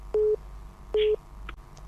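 Phone busy tone after a call disconnects, two evenly spaced steady beeps, each about a fifth of a second long, clear over faint background hiss.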